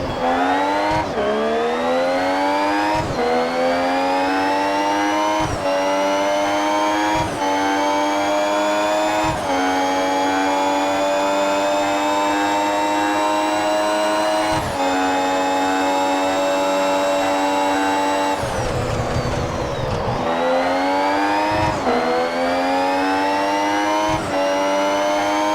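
Formula 1 race cars lapping the Monza circuit in a mobile racing game: a loud, high engine whine climbing through repeated gear shifts, each upshift dropping the pitch before it rises again, with a brief lower rumble near the end.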